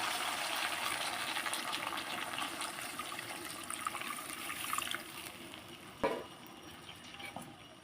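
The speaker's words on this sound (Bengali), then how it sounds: "এবার তরকারির মধ্যে যে পরিমাণ মতো জল দিয়ে দেবো" Water is poured into a simmering fish and cauliflower curry in a pan, making a close, rushing gush mixed with sizzling, with a few clinks near the end and no talking.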